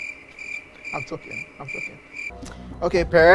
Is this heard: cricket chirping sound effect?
yes